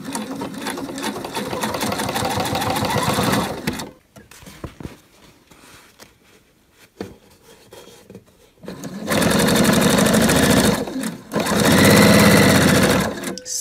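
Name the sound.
sewing machine stitching a French market bag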